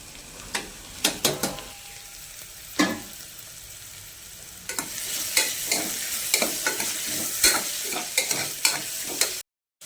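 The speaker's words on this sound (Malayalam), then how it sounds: "പച്ചമുളക്, 2 പച്ചമുളക്, ഒരു തക്കാളി ഞാൻ അരിഞ്ഞ് വെച്ചിട്ടുണ്ട്, അതിട്ടിട്ട് നന്നായിട്ട് വഴറ്റി കൊടുക്കുക" Onion, green chillies and chopped tomato sauté in a pan for a quick biryani, with a soft sizzle that grows louder midway and sharp, repeated spatula scrapes and taps against the pan, close and alone.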